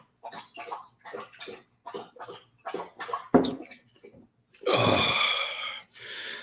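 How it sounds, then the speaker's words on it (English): A dog laps water from a bowl indoors, making a close, steady run of wet slurping laps that ends in a louder, longer splashy burst. "you can hear my dog drinking water in the background."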